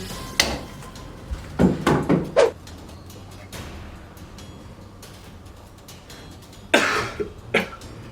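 Several coughs in short bursts, a cluster near the start and another pair later, with quiet pauses between.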